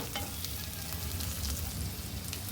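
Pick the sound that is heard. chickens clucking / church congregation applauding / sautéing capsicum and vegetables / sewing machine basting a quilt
sautéing capsicum and vegetables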